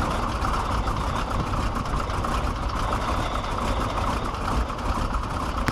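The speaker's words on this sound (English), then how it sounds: "Tell you nothing sounds better than a radial engine." A Stearman Model 75 biplane's radial engine idles while warming up, making a steady, rough low rumble that stays continuous and moderately loud with no voices.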